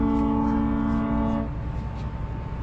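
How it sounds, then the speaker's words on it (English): A loud, sustained horn blares for about a second and a half and then cuts off, leaving a low background rumble. "Honking."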